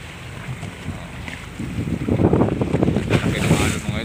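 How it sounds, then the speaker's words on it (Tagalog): Large ocean waves slosh and crash around a longline fishing boat at sea amid steady wind noise, building louder in the second half; no one speaks. "Laki ng alon mga idol oh. Unti-unti pero malalaki."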